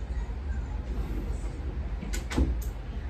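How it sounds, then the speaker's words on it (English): A room door is pushed shut with a brief thud and a couple of latch clicks near the end, heard close against a low background hum and with no one speaking. "Let me close my door real quick."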